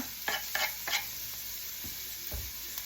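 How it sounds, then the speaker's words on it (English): Chopped onion dropped into a hot pan for fried rice gives a steady sizzle, broken by a few sharp scraping stirs near the start and soft clatters later. The sound is close and moderately loud with no talking. "I have a chopped up onion. I'm going to put that in there."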